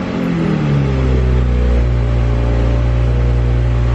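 A Toyota Supra A90 with the B58 engine starting up with the bonnet open: a loud, steady low engine rumble that settles into a continuous idle, heard alone without talking.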